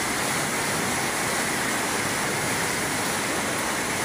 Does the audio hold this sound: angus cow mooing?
no